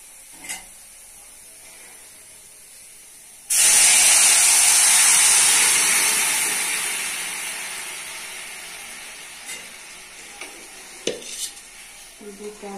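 Lentils tipped into a pan of fried onion, garlic and chili give a sudden loud sizzling hiss that starts abruptly and slowly fades, with a few faint clinks and stirring sounds afterward.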